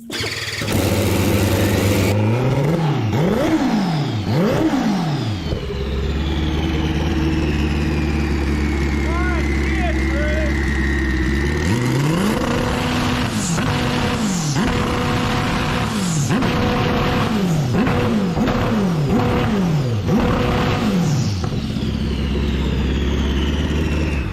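A Hayabusa-based motorcycle engine warming up idles and is revved repeatedly in rising and falling bursts, loud and close, with people shouting over it.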